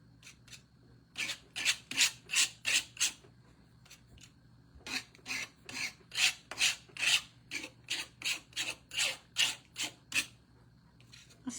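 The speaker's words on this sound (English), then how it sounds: "I'm going to just kind of scrape this across here" Rasping scrapes of a tool dragging glaze across a ceramic tic tac toe board, in quick back-and-forth bursts with short pauses, close and moderately loud, with no speech.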